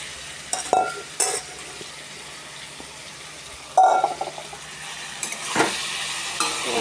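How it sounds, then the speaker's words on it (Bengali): Boiled mashed potatoes being sautéed with fried spices in oil in a pan, with a steady low sizzle and a few scraping stirs of a spatula, close and fairly quiet, with no talking. "এটাকে কষিয়ে নিই।"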